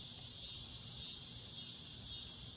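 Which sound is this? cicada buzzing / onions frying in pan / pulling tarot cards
cicada buzzing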